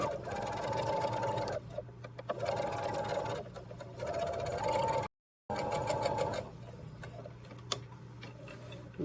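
A sewing machine stitches a 5/8-inch seam on a jacket in steady whirring bursts of rapid mechanical ticking, pausing briefly between runs and stopping once, with no talk.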